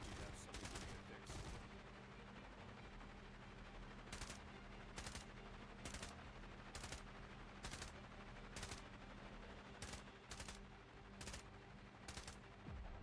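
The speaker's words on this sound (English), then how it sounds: "Who's shooting?" Gunfire in the video game Cepheus Protocol, sharp repeated bursts of shots crackling over a dense battle din, some in quick clusters.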